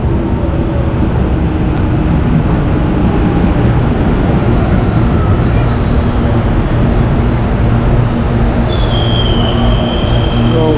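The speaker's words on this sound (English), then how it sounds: "Train coming." A train rumbles loudly and steadily as it pulls into a station in São Paulo, Brazil, wheels grinding on the rails with a rising metallic squeal near the end.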